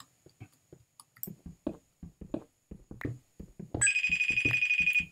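A telephone rings loudly and steadily in a rapid repeating trill, starting partway through after a stretch of scattered clicks and handling taps.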